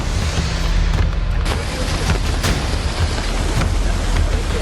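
Heavy rain pours steadily during a dangerous downpour in Kota, with broadband hiss throughout and a few low rumbles that suggest distant thunder, without any speech.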